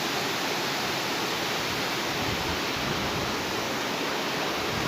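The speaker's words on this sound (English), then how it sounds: "Still some parts of the old rapids remain." Water rushes steadily through the remains of old river rapids in Tampere, Finland, a dense, continuous roar close by with no pauses and no voices.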